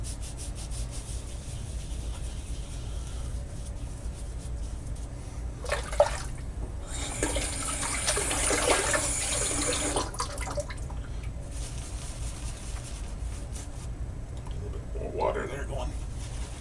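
A tap runs during a shaving routine. A low background murmur gives way to a burst of gushing water lasting a few seconds mid-way, then a short splash near the end; a voice is faintly present.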